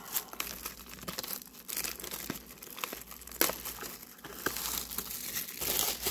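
A Pokémon Dimension Force booster pack being ripped open, close crinkling and tearing foil in irregular bursts with sharp crackles and louder rips toward the end, no speech.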